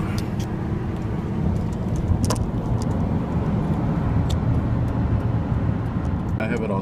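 Car interior while driving through downtown Atlanta, a loud continuous low engine and road rumble with faint rattles and clicks, and a voice speaking briefly near the end.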